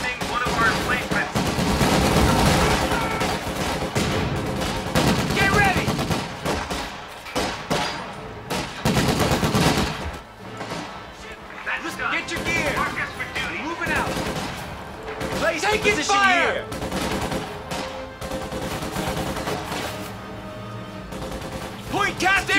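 Machine gun fire in Company of Heroes 2 battle, dense rattling bursts and crashing explosions filling the scene almost nonstop, with shouted soldier voices breaking through during the quieter stretches.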